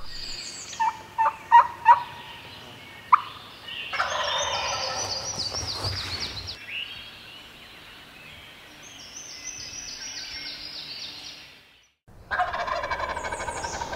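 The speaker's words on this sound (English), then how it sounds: "I just heard a bird gobble." Wild turkey gobbles ring out, loud and rattling, several times with pauses between, alongside a few short clucks and chirps in an otherwise quiet big-woods morning setting.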